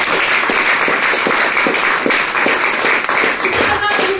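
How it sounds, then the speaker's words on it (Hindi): An audience claps together in loud, sustained applause, with a dense steady patter of many hands filling the room and a voice faintly underneath. "मैं चाहूंगी जोरदार तालियां"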